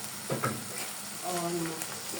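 Chicken frying in a home kitchen pan, a soft steady sizzle running throughout with faint stirring clatter near the start.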